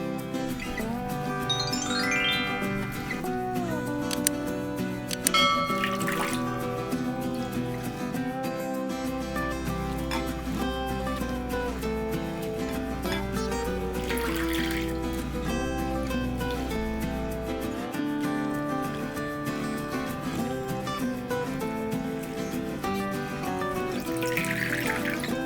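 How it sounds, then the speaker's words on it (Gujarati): Shredded potato strips being rinsed in water while preparing crispy aloo lachha pakoras: soft splashing and running-water sounds sit faintly beneath prominent background music throughout. "આ આલુ લચ્છાને આપણે 3 થી 4 વખત ખૂબ સરસ રીતે પાણીથી ધોઈ લેશું"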